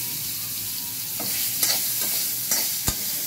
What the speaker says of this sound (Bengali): ডাটাগুলো একটু ভেজে নেবো।